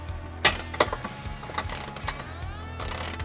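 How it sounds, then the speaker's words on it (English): Ratchet wrench turning an 18mm socket on a swivel to loosen the top bumper beam nut of a 2022-2024 BMW i4 during a trailer hitch install, with uneven bursts of clicking over a low steady hum. "For the top nut, you're going to want a swivel with your 18mm socket."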